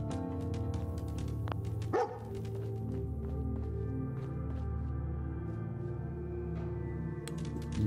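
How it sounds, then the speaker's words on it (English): A dog barks and yips a few times, close by, in the video game Fallout 4, over a steady droning background ambience. "You're a good dog."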